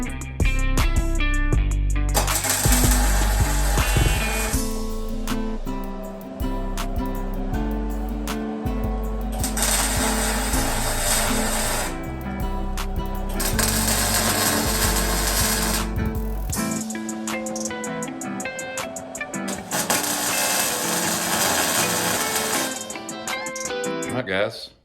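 Welder tack welding rock sliders onto a vehicle frame, a loud continuous buzzing crackle in several long stretches with brief pauses between tacks.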